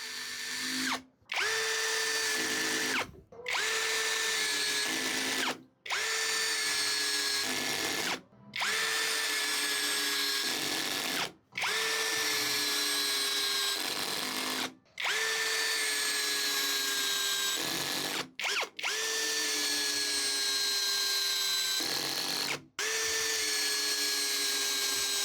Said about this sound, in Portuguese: Cravamos totalmente o parafuso na madeira